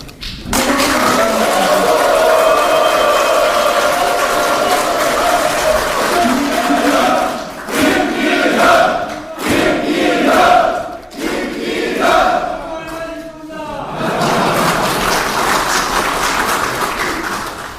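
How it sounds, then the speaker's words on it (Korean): Loud applause and cheering from a crowd at a People Power Party policy meeting in Gyeonggi Province, surging and dipping in several waves with shouts mixed in, then swelling again toward the end. "한 분 한 분 소개할 때마다 뜨거운 박수로 응답해 주시면 고맙겠습니다"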